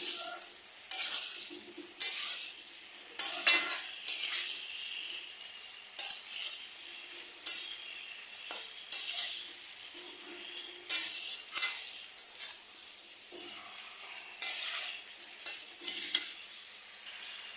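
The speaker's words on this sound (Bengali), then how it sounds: "দিয়ে আমি এটাকে আবার ভালো করে নাড়ব।" Vegetable curry being stirred in a pot with turmeric, cumin and chili powder: repeated scraping spoon strokes and clinks against the pan over a soft sizzle, fairly close, with no talking.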